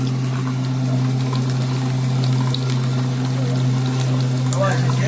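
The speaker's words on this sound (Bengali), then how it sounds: "এখন হাত দিয়ে চালানো হচ্ছে আপনার মেশিনটি" A hand-cranked milk cream separator runs steadily, cream and milk streaming out into a bowl with a constant pouring, trickling hum; a voice talks over it.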